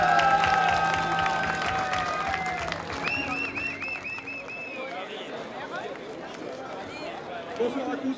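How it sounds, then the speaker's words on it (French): A crowd at an inauguration evening applauds cup winners with warm, sustained clapping that gradually tapers off, while a voice speaks over it at the start and music tones fade out. "On peut les applaudir. Bravo à tous."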